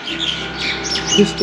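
Birds squawk and call nearby in short, scattered bursts over steady outdoor background hum in the morning at Ram Jhula, Rishikesh.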